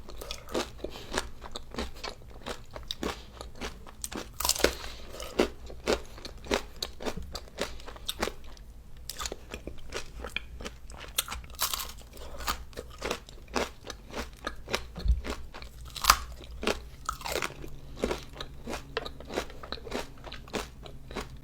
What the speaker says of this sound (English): This is seriously one of the best ice creams I've ever had.